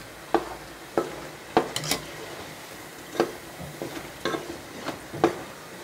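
Pastry frying in hot oil, with a soft steady sizzle beneath, punctuated by a series of sharp clinks and taps from utensils or the pan at irregular intervals, fairly quiet and close with no talking.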